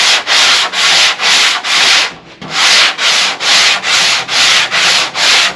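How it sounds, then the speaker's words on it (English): Body filler on a 2002 Ford F350 rust repair is sanded with a sanding block in loud, rhythmic back-and-forth strokes, about ten even passes with a brief pause midway, close up and without talk. "my filler's set up. A little thick down there, but I got my 2 sanding blocks out."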